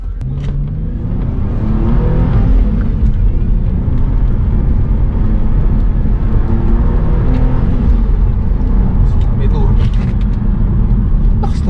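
A 2010 Hyundai Genesis V6 coupe with about 300 horsepower accelerates hard in third gear, its engine a loud, sustained, rising roar heard from inside the cabin while people talk and exclaim over it.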